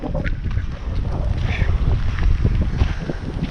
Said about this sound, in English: that wind's starting to blow heavy now.